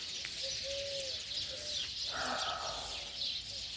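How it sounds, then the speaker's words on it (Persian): Pigeons or doves coo softly in a steady outdoor setting while other birds chirp and sing nearby, a gentle continuous layer of birdsong with a few clear tonal coos and no talking. "آوازی پرنده ها رو شنیدستیم."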